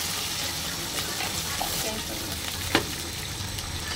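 Onion frying in a pan as ginger, green chili paste, cumin paste and salt go in, a steady sizzle with a brief splash and stirring noise, with a little talk over it.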